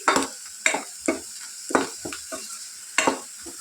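Onions fry in a pan for an egg curry, with a soft sizzle under repeated sharp spatula strokes that stir and scrape at an uneven rhythm, close and fairly loud.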